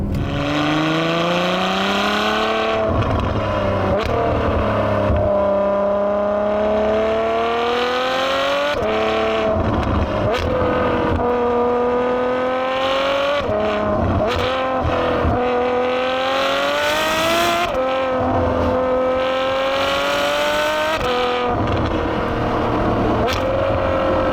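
A Ferrari F12's powerful engine revs hard, its loud rising roar climbing through several gear changes with brief dips between pulls.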